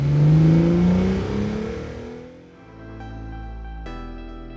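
A Lexus IS 500 sports sedan's V8 engine revs loudly up close, rising in pitch as it accelerates, then drops and settles into a steady higher drone.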